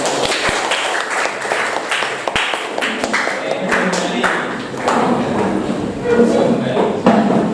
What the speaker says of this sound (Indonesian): Ya, tepuk tangan untuk kalian